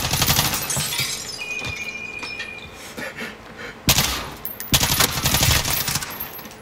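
Gunfire in Call of Duty Modern Warfare: a dense run of sharp, loud shots, with two heavy bursts standing out near the end over a constant wash of game noise.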